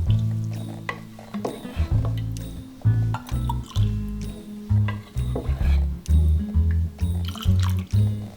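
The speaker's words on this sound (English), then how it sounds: "time to pour a glass of mulled wine." Warm mulled wine is poured from a pot into a glass, giving a series of close, wet, glugging splashes and dribbles in short bursts, with no one talking over it.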